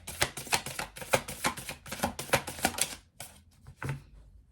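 Rapid riffling bursts of a large tarot deck shuffled in halves, several quick clattering runs close up, then a pause and one last short riffle, with no talking.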